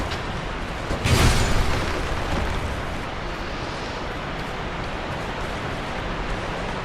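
A horribly loud waterfall in the video game Dark Souls 2 roars as a dense, steady wash of broadband noise, with a sharp burst of extra loudness near the start before it settles into a constant close rush.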